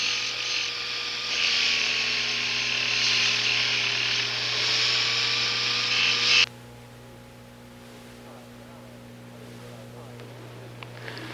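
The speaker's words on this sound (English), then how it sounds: "now I have completed what I want to do with the sandpaper disc, and that's the preliminary smoothing where the sprue was attached" Dental sandpaper disc smoothing a cast gold inlay restoration where the sprue was attached, a steady high-pitched whir with a faint motor hum that runs loud for about six seconds, then cuts off, leaving only low background hum.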